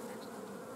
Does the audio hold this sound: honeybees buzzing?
yes